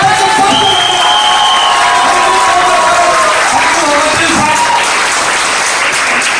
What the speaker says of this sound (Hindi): एक दमदार ताली होना चाहिए।